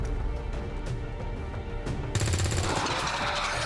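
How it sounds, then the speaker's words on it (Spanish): Gunfire from the tactical strategy game XCOM 2 with the Long War 2 mod, a dense burst of loud shots and crashing impacts erupting after a busier stretch of game sounds, with no talk over it. "tengo 4 disparos disponibles con estas dos"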